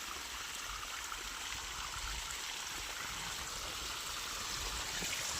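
Irrigation water flows steadily across a farm field, a continuous close rushing and trickling wash with no voices.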